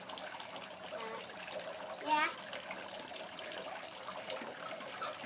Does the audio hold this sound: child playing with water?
yes